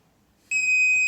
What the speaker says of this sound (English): now we'll just kind of wait until that beep happens